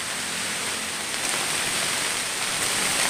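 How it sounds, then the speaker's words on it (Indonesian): Steady rain falling around a treehouse at night, a dense even hiss of rainfall with no break or change in loudness, heard alone without voices. "Ah, ini hujan lagi sobatnya."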